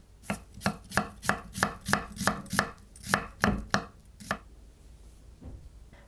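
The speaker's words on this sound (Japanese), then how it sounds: "ねぎは皮を剥いて縦半分に切ります。 ヘタを除きます。 縦薄切りにします。" A kitchen knife cutting thin lengthwise slices from a halved, peeled leek on a cutting board, about a dozen crisp, evenly spaced chops close by, slowing and fading toward the end.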